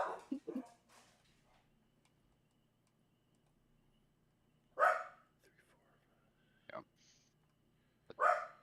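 A Great Pyrenees barks several times outdoors in separate, well-spaced bursts against a quiet background. The barks sound moderately distant and fairly soft.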